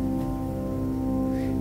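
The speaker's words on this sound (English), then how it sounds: "It's the sound of the tanpura, the drone." Steady sustained tanpura drone used for tuning in Indian classical music, a rich buzzing tone with layered sustained overtones, close and continuous with no talk.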